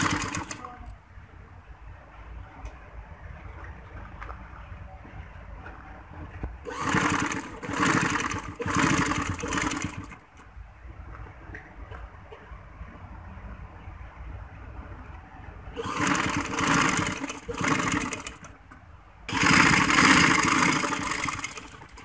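A sewing machine stitching along the edge of a frock runs in three loud bursts of rapid whirring, separated by quieter stretches of low motor hum, close up.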